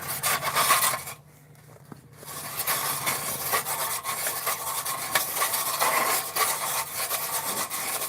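A hole is drilled through ice, a steady scraping, grinding rasp close by that stops for about a second, then carries on continuously and loudly, with no talking.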